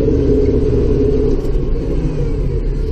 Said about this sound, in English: You don't have to have your tractor revved up all the time in order to get the power.